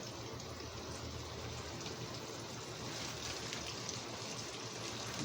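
Chicken frying in hot grease in a skillet: a dense, continuous bubbling crackle and hiss, steady and fairly close, with no talk over it.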